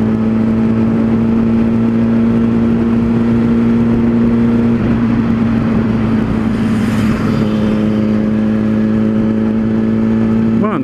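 Yamaha R1 sport motorcycle accelerating hard, its loud steady engine drone holding a strong tone throughout, with a brief passing whoosh near the middle, heard close and without talk.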